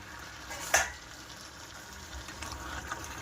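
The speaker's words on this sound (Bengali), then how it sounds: "আর এখন আমি ঢেলে দেব ধুয়ে রাখা মাংসটা।" Washed raw meat tipped into a pot of fried spice masala, making a single short splash and sizzle near the start, followed by a quieter stir and low cooking noise with no talking.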